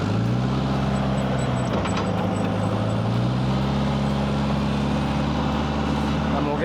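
Forklift rolling along slowly in four-wheel drive on a farm property, a steady low engine drone running continuously and close by, with no talk over it.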